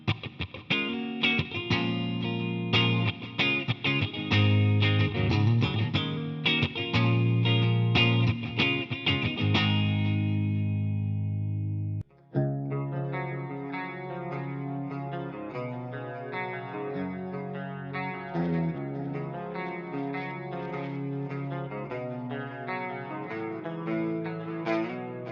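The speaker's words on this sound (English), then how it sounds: "You can really hear the reproduction of a traditional guitar cabinet speaker" Electric guitar played through an Electro Voice PXM-12MP FRFR monitor in guitar mode, emulating a 12-inch open-back cabinet speaker: a driving distorted strummed riff with sharp rhythmic chops, then after a brief break a cleaner, chorus-laden picked passage ringing on steadily.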